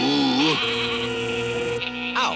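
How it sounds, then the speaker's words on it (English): A cartoon sheep gives a loud, drawn-out wavering bleat near the mic, followed by a second shorter bleat at the end. "There was a sheep in the way."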